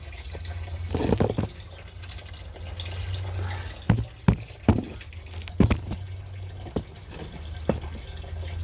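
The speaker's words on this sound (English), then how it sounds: "suck the water from out of this container" Water trickles and gurgles quietly as it is siphoned through a hose from one container into another, broken by several sharp knocks and clunks of handling equipment nearby.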